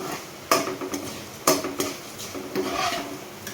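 Coriander and cumin seeds toss and rattle in a pan, a steady dry frying hiss broken by two sharp scraping stirs and softer utensil knocks, close and fairly loud with no voices.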